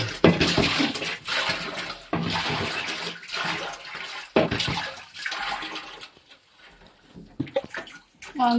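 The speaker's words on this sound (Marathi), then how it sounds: "आता टाकी धुवायला घेतलेली आहे" Water splashes and gushes in bursts as a water tank is washed out, loud close surges separated by short pauses, with quieter stretches near the end and faint voices in the background.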